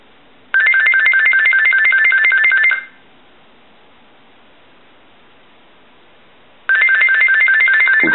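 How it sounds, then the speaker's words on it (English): A General Electric DECT 6.0 cordless telephone rings loudly in two electronic trilling bursts separated by a pause of quiet, heard up close and alone. "we'll go ahead and ring the telephone"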